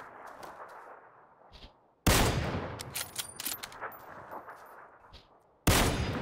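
Gunfire from an M249 and enemy players in PUBG on Xbox One X, two loud sudden bursts of shots with rattling follow-up reports and quieter distant pops between, no talk.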